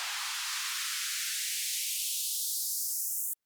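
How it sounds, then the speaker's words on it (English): Pure white noise in a music remix sweeps upward as a rising filtered hiss, growing brighter for about three seconds before cutting off abruptly, heard alone. "Then I added the white noise"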